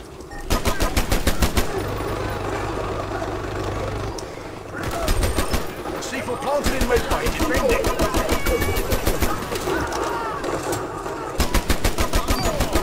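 Rapid automatic gunfire rattles almost continuously in the online shooter Dirty Bomb, loud bursts with brief gaps, while a player talks over the action.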